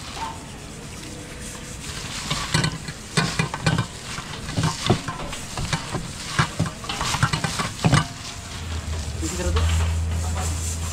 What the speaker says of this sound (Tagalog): nagpiprito na tayo ng fish fillet